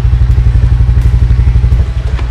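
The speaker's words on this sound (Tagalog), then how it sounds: "bubuksan natin ang ating makina para mag-circulate" A Honda Click 125 scooter engine idles during a gear oil change, a loud, close, steady low throb with an even rapid pulse and faint mechanical clatter.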